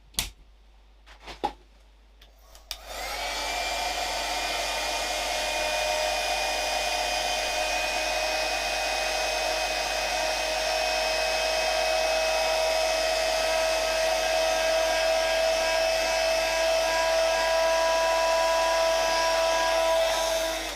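After a few faint handling knocks, a heat tool or dryer starts and blows a loud, steady whine with a rushing airflow for close to twenty seconds while drying watercolour stamping ink on papercraft.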